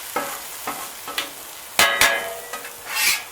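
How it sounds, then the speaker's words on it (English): Spatula scrapes and stirs onions, mushrooms and ham on a Blackstone griddle for loaded hash browns, several separate metallic scraping strokes over a soft steady sizzle, close and fairly loud. "Now what I'm going to do is mix all these onions, mushrooms, ham together right here"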